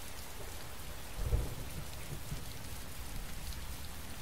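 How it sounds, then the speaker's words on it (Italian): Steady, hissing rainfall in the video game Heavy Rain, with a low, muffled thunder rumble swelling briefly near the start, then fading back under the constant rain. "Però di continuo piove."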